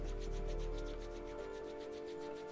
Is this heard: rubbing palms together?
yes